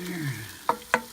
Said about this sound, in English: we are going to add 1 can of diced tomatoes.